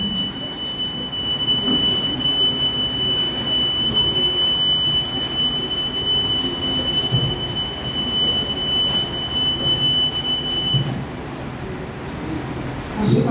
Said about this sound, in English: if you want the alarm to be on, you can connect the wire.